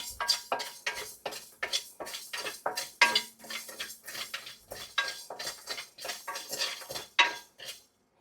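Coriander, fenugreek and cumin seeds dry-roasting in a large kadai: a steady run of scraping, clinking spatula strokes against the metal pan, close and rhythmic, about two strokes a second.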